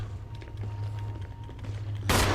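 A single loud burst of a gunshot headshot in a Capcom video game lands near the end, after a steady low hum of game ambience.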